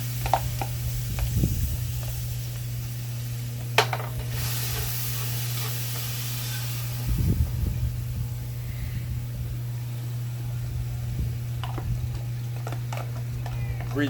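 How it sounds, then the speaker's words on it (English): Onions, tomatoes, pepper and garlic sizzling in hot oil for a Guyanese-style meal, a steady close frying hiss with a few louder bursts, over a constant low electrical hum. "Oil is hot. So I'm going to start with the onions, tomatoes, pepper,"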